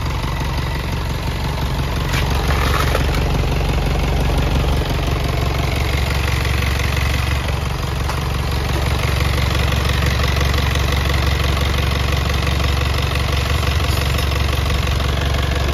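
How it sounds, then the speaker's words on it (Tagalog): Selfloader truck engine idling with its power take-off engaged and running, a steady loud rumble with a fine mechanical whine held close by for a long stretch, no speech. "Yung PTO nito mga kayabi, kahit naka-off, natunog."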